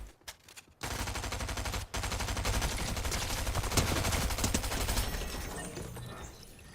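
Fortnite SMG fire: after a brief quiet start, a long rapid burst of loud, close automatic shots with a short break near two seconds, then sustained firing that tapers off toward the end.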